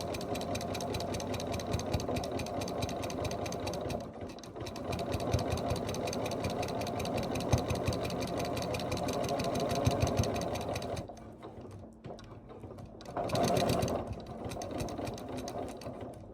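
A sewing machine stitches the outside edge of a mug rug with a steady, fast mechanical whir for several seconds, pauses briefly, then runs again in a short burst.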